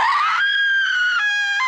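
A woman lets out a loud, sustained high-pitched scream that wavers and shifts pitch over nearly two seconds, close and alone.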